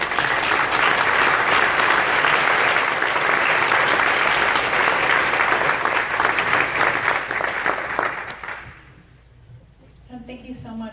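Audience at a candidate forum applauds, a loud sustained wave of clapping that fades out near the end, followed by a brief voice.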